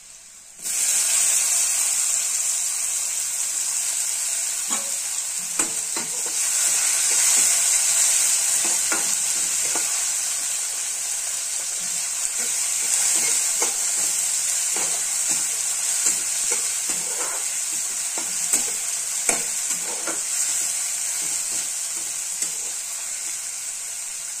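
Tomatoes tipped into a pan of frying onions for a Maharashtrian ridge gourd bhaji, setting off a loud steady sizzle with scattered stirring clicks and scrapes throughout, no voices.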